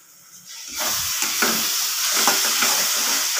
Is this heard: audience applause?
no